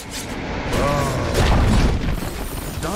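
A defensive tower in the Dota 2 video game crumbles and is destroyed, producing a loud, sustained booming collapse with rumbling debris and mechanical clatter, partly under a voice.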